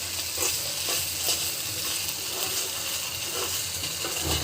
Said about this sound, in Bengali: কাঁচামরিচ খুব সুন্দর করে ভাজি করে নিচ্ছি